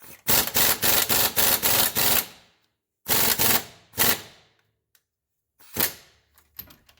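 A 3/8 impact gun hammers on the ball joint of a 2006 Subaru Forester in a shop, with a long rapid rattling burst followed by shorter bursts and single hits, loud and close.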